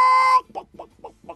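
A hen gives a short run of four soft, evenly spaced clucks, close by, after a brief sustained tonal sound.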